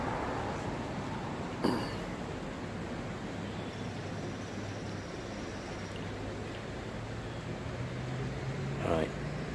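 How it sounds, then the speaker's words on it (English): Road traffic rumbling steadily behind a chalk-stream river, a dull continuous wash of passing vehicles with a couple of louder swells from nearer cars. "sorry for the noise, but there is a road behind us"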